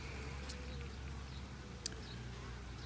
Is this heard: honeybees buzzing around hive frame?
yes